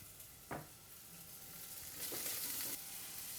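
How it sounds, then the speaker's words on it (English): Carrots fry in chorizo oil in a pan, a soft steady sizzle that swells slightly, with a stir or two knocking against the pan, quiet and close. "I'm going to use that to fry my carrots in."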